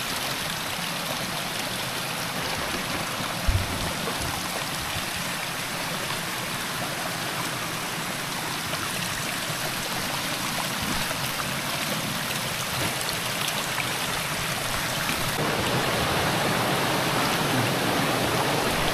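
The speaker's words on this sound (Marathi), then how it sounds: "म्हणजे कसं पाणी आतून वाहत राहतं." A stream flows over stones where crabs are being caught, a continuous rushing, bubbling wash of water, loud and steady throughout with no voices.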